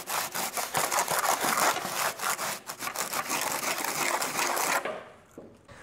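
A small plastering float rubs and scrapes mortar smooth on a gate frame in rapid back-and-forth strokes, loud and close, before stopping abruptly near the end.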